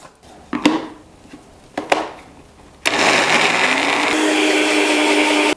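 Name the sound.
blender blending pumpkin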